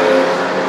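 A historic race car heads out of the pits at Le Mans, a loud, close engine note that holds a strong buzzing tone and begins to fade briefly as it pulls away.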